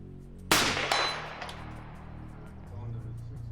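Shots from a SCAR battle rifle striking a 12-inch steel target plate at about 100 yards on an outdoor range: one sharp report followed by a second, each with a ringing decay, then a faint low rumble.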